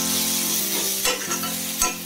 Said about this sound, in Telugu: ఇప్పుడు గోంగూరను ఒక 5 నిమిషస్ ఇలానే మగ్గనిద్దాం